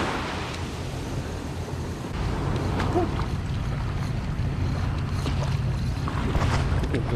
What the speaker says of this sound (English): They're passing by, chasing those stripers.